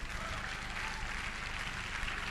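Congregation applauding during a church sermon, a dense, steady wash of many hands clapping at close range, continuous and even for its full length with no talk over it.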